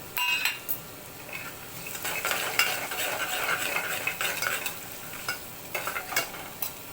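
Raw peanuts frying in oil in a pan for a fasting-day farali misal, with a steady close sizzle under repeated scrapes and clinks of a spoon stirring against the metal pan; no talking.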